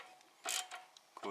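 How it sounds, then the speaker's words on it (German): A screw on a hose clamp is tightened on the 2.0-litre 2E engine of a VW Passat 35i, giving faint metallic clicks and short ratcheting scrapes in a quiet garage. "Und die hatte hier eine Klemme, die können wir dann so festschrauben."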